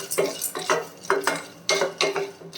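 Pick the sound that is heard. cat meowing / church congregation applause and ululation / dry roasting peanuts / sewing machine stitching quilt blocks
dry roasting peanuts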